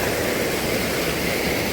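Strong, steady rush of stream water pouring over a small check dam near Chalakudy, Kerala, a continuous close broadband roar with no voices.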